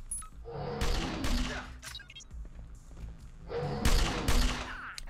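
Gunfire in the video game Sword of the Stars: The Pit: two loud bursts of shots, about a second and a half each, separated by quieter game sounds and low thuds.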